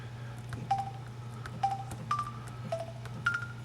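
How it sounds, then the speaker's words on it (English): Several short electronic touch-tone beeps from a Samsung Glyde phone's dial pad sound one after another at an irregular pace over a quiet background hum. "We'll hit dial pad there, and there's your dial pad, and it makes some really cool sounds."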